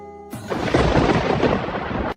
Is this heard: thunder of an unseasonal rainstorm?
yes